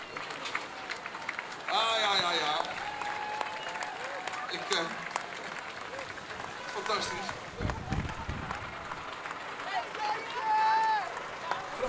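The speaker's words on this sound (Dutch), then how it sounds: "Dan mag ze een warm applaus geven." Spectators line the street at a military liberation parade with a traditional costume group riding in DAF trucks, applauding and cheering at moderate distance while a voice exclaims over the crowd.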